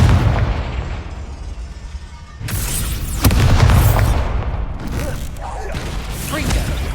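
A Confringo fire spell explodes in the game Hogwarts Legacy, with booming bursts, one at about two and a half seconds and another near three, plus crackling aftermath and a later boom.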